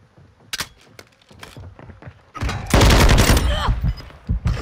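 Bursts of automatic gunfire and single shots crack out in a Call of Duty: Modern Warfare 2 match, sparse at first, then a loud dense fusillade mid-clip with trailing echoes and a few more shots at the end.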